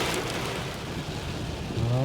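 Heavy rain pours on a car during a nighttime thunderstorm, a steady loud hiss of drops drumming on the roof and windshield throughout.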